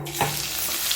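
Garlic sizzles hard in hot oil for a cumin tempering, making a loud, dense, continuous crackle that opens with a brief pop.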